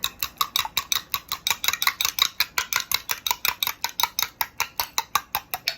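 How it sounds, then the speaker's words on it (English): A fork stirs chopped onions in a pan, clinking in a quick, steady rhythm of sharp metallic taps against the pan, close and fairly loud with no talking. "take a fork or knife, anything, go ahead and stir your onions up."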